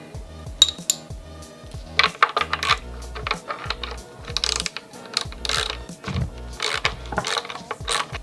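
A ratchet clicks in quick, uneven bursts while a bolt is removed from the light bar bracket on a Ford Bronco Everglades, close and loud with no talking.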